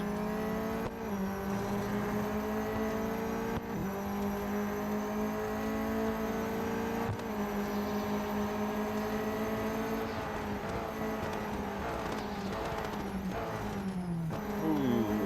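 A racing car engine in the mobile game Real Racing 3 drones and whines loudly throughout, with rising and falling revs through gear changes and a steady close roar, no talk.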